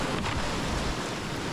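Flowing river water on Ramsey Prong in Tennessee rushes as a steady, dense broadband roar, close and continuous, with wind buffeting the microphone throughout and no voices.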